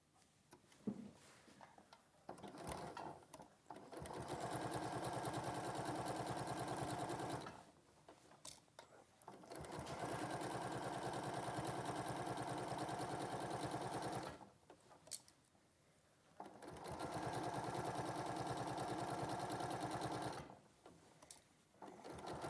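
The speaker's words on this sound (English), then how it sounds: "Just quickly sew it." Domestic sewing machine stitching button stands, three long steady runs with a fast even whir, separated by short pauses filled with small handling clicks, close and clear.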